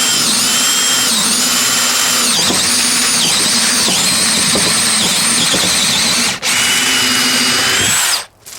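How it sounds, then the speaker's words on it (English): A DeWalt 18/20 volt compact drill in low range bores a 5/8 inch hole through a 4x4 wood post, a loud steady high whine with a brief dip near the end as it breaks through and stops. "so both of those drills did a good job drilling the 5/8 inch holes in this 4x4"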